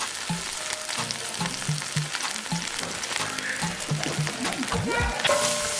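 Peas and carrots frying for ham and shrimp curry fried rice, a steady close sizzle in a hot pan with bursts of stirring and scraping throughout, a voice talking faintly underneath.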